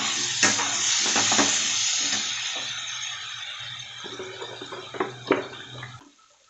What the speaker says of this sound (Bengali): অল্প অল্প করে দেবো আর নাড়তে থাকবো।